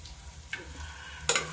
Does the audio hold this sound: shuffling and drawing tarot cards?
no